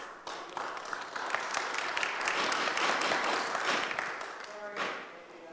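Audience applause breaking out at a municipal council committee meeting: a swell of clapping from a modest crowd that builds, holds steady, then tapers off, fairly distant and moderate in level.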